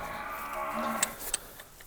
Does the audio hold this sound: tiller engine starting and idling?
no